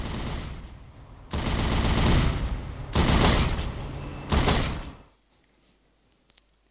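Bursts of automatic gunfire from a video game shooting at enemies, three long sustained loud rattling volleys separated by brief pauses, then cutting off to near silence with a couple of faint clicks.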